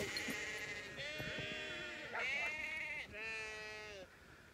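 Sheep on a farm, herded toward a gate by working dogs, give several drawn-out wavering bleats in succession, fairly close and clear, with no talking over them.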